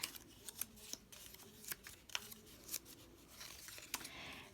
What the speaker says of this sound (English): Then I'm going to fold these tabs back.